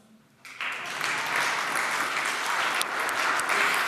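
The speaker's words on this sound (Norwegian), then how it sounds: "applausen." Applause from a conference audience, bursting in after a brief quiet moment and building into sustained, dense clapping that stays loud and steady to the end.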